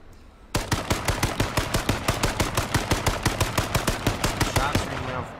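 Rapid gunfire in a video game, a fast regular burst of sharp, loud shots going on for about five seconds, close and dominant, with no talking.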